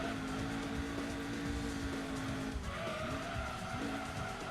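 Car in Gran Turismo 2 braking hard, a steady tyre squeal and skid over engine drone, loud and continuous, with the pitch shifting midway.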